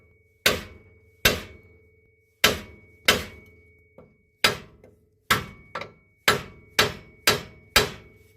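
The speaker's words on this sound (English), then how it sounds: "if you have an air chisel, an air hammer actually" Sharp, loud impacts from an air hammer repeat about eleven times at a steady, then quickening pace, each striking hard against metal on a Nissan Frontier front strut and ringing out briefly, with no voices.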